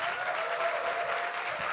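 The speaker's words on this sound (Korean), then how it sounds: "큰 박수 부탁드리겠습니다." Audience applause at a talk concert, a brief dense wash of clapping from a crowd, steady and moderately loud from start to end.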